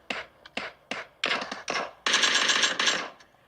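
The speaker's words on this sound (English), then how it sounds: "Oh, I'm getting shot at." Rapid machine-gun bursts from the mobile game PUBG played on a gaming phone: several short separated volleys, then a longer sustained stretch of fire, loud and close with no talk over it.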